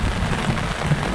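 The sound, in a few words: strong wind and rain at a campsite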